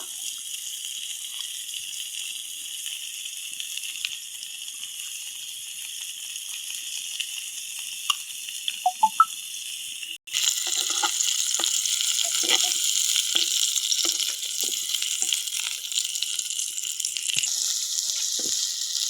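Pointed gourd (potol) frying in a pan: a thin, quieter sizzle jumps to a louder, fuller hiss halfway through, dotted with small pops and clicks.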